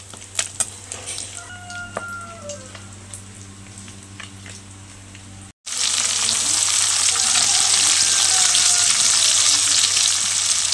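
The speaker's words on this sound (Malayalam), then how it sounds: "ഇനി ചിക്കൻ കോരി ഇട്ടിട്ട് വേണം ആ എണ്ണയിൽ തന്നെ ഇത് വഴറ്റിയെടുക്കാൻ വേണ്ടിയിട്ട് മാറ്റിയിട്ടുണ്ട്" Onions go into the oil left from frying chicken for chicken biryani. Quiet utensil clinks come first, then a sudden loud, continuous sizzle close by.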